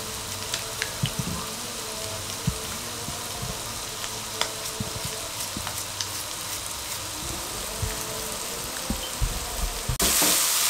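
Keema frying over a medium flame, a continuous close sizzle with scattered spatter pops and occasional stirring clatter, brightening near the end.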